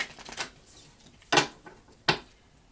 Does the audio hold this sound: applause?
no